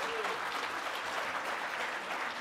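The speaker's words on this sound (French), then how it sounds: "Allez, on les applaudit." Applause from a tech conference audience in Lille, a dense, even wash of clapping heard at moderate distance and fairly faint, with a voice briefly audible near the start.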